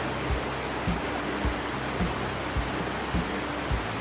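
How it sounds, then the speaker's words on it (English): The Wellington River in the Victorian High Country rushes past as a constant broad hiss of flowing water, with soft regular thumps underneath. "I don't know if you can hear the water in the background, but there's plenty of it going through here."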